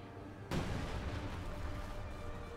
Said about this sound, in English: We also hear artillery shots flying in this direction.